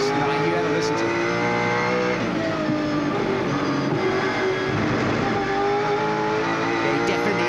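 Onboard engine of a Ford AU XR8 race car at Eastern Creek during the 1999 Shell Champions race, roaring loud and steady with shifting revs throughout while chasing another car, with a commentator's voice faintly under it.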